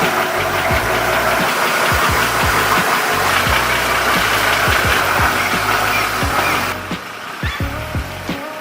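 A Nissan GU Patrol with a 4.2 turbo-diesel engine runs loud and close on a test run, giving a steady low clattering drone with rhythmic knocks. The roar drops to a quieter, lighter idle near the end.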